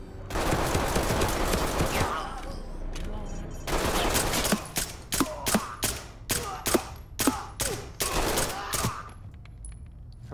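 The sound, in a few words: gunfire in Ready or Not video game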